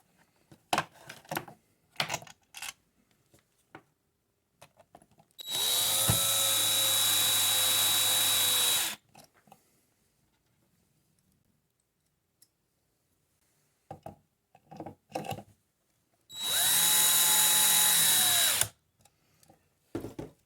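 A handheld power drill drives screws into a Quadtari kit for an Atari, two sustained whirring bursts of about three seconds each, close and loud, separated by quiet handling clicks.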